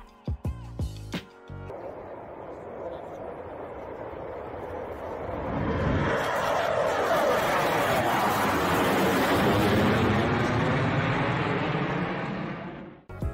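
Fighter jet performing a stunt, its roar swelling from a steady background rush into a loud, broad jet blast that holds for several seconds and then cuts off abruptly.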